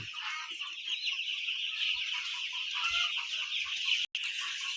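Three-day-old broiler chicks chirp in a dense, continuous chorus of high peeping, close and steady, with only a faint knock or two underneath.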